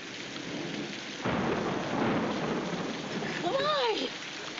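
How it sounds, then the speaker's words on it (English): Thunderstorm with heavy rain in a 1940s film-noir soundtrack, a steady roar of downpour with a deep thunder rumble swelling midway, while a voice speaks briefly near the end. "Oh, looks like a storm's coming up."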